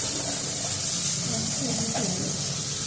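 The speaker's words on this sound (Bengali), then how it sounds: "এখানে আলু ভাজা হচ্ছে" Potatoes frying in oil for a home-cooked winter vegetable curry, a constant loud hiss and sizzle close by, with faint voices underneath.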